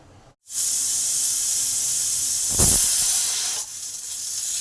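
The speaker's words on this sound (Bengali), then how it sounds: "সিটি হয়ে গেছে" A pressure cooker holding rice and dal together over high heat lets out its whistle as a loud, continuous rush of hissing steam that holds for about three seconds, then drops to a lower, softer hiss.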